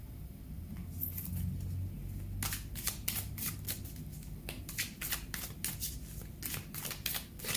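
Tarot cards shuffled by hand, a soft riffling rustle that builds into a quick run of crisp flicks and snaps, close and fairly faint, with no talking.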